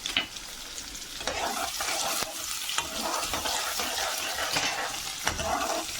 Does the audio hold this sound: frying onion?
yes